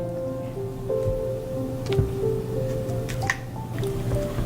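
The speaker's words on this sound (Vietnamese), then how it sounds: "mình cho mướp qua rửa trong thau nước có pha một chút muối" Sliced luffa gourd is washed by hand in a basin of lightly salted water, with close, wet squelches, drips and sloshing that come in irregular bursts.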